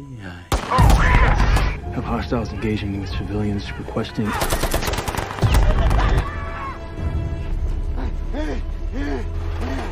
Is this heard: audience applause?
no